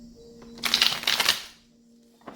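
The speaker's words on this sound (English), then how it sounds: "2 more shuffles" A deck of tarot cards is shuffled, one quick riffle of flicking card edges rising up close, then a short quiet gap and a faint tap at the end.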